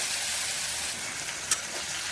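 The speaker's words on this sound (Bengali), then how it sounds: "মাছগুলো একটু মশলা করে ভেজে নেব।" Spiced shrimp frying in hot oil in a wok, a loud, dense, continuous sizzle close by, with a brief sharper crackle midway and a small clink at the end.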